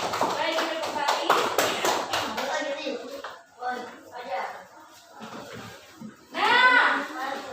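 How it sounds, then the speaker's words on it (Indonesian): A classroom of children clap briefly for classmates during a primary-school lesson, a short burst of taps and claps at the start, then a teacher talks over quieter shuffling. "tepuk tangan buat adik-adiknya"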